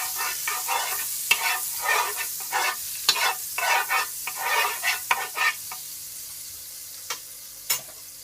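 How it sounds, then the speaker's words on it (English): Butter sizzling in a pot on a low stove, a steady crackling fry broken by repeated scraping stirs as it is tossed around, close and fairly loud with no voices. "I have a pot on the stove and I add at least 2 spoonfuls of butter"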